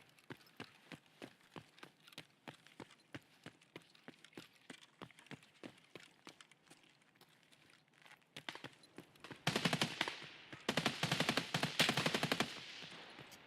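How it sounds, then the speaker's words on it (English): Rapid gunfire in the video game Escape from Tarkov, starting as repeated sharp distant shots, then swelling into loud, dense automatic bursts near the end. "Why is there a lot of gunshots going off?"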